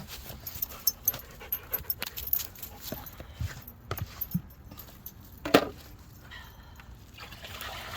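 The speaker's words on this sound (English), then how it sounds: "You two are just the best dogs." Two dogs pant softly and rhythmically nearby, with faint jingling of tags or keys and scattered small knocks and clicks around them, low in level and with no talk.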